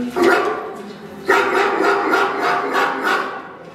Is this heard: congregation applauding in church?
no